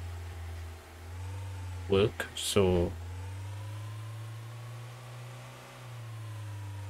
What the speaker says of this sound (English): you can hear my engine revving up there